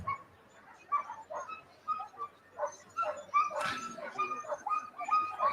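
Sled dogs at the Iditarod ceremonial start in Alaska barking, yipping and whimpering in a steady excited chorus of overlapping short calls, moderately distant over a noisy outdoor crowd background.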